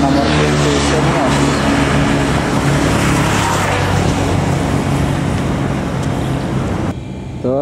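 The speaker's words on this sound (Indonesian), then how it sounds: "Terpantau keberangkatan bus ALS." A departing ALS intercity bus on a Sumatra road gives a loud, continuous engine and road roar with steady harmonic engine tones throughout, ending abruptly near the close as a higher tonal sound takes over.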